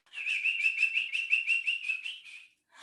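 A person whistles in imitation of birds, a rapid steady string of bright trilling chirps lasting a couple of seconds, clear and close with no talking.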